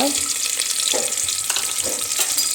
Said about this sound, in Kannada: ಇದು ಚೆನ್ನಾಗಿ ಕಂದು ಬಣ್ಣಕ್ಕೆ ಬರೋವರೆಗೆ ಫ್ರೈ ಮಾಡಬೇಕು ಇದನ್ನು